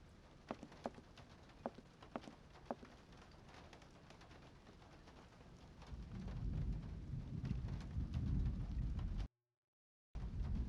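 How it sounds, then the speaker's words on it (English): Storm ambience from the video game Syberia: faint rain patter with sharp thunder cracks early on, then a heavier low rumble building before a brief dropout, with no talking. "She's gonna wait for the storm to end before she steps outside."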